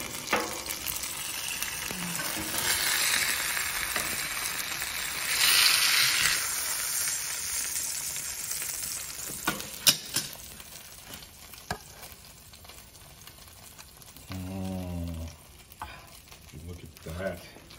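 Burger patties frying on a grill for Hawaiian burgers, a steady close sizzle with occasional stirring and scraping, a brief louder hiss midway and sharp clanks near the end.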